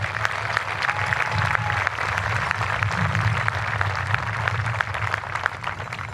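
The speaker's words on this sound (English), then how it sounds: "Can we please give them a round of applause?" Crowd applause at an outdoor high school graduation ceremony, a steady wash of distant clapping spread across an open space, continuous and fairly even throughout.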